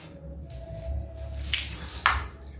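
Water poured from a bottle into a car's coolant reservoir, a car with a noisy reservoir cap and overheating, giving soft dripping and splashing with two brief louder gurgles near the end, close by and without talk.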